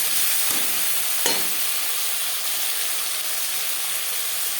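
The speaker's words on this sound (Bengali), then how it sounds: "দশ পনেরো সেকেন্ড জিরে তেজপাতা ভেজে নেওয়ার পর দিয়ে দেবো টুকরো করে কেটে রাখা টমেটো" Chopped tomatoes drop into cumin seeds and bay leaf frying in hot oil, raising a steady, close sizzling hiss with a couple of sharp clicks near the start and no voices.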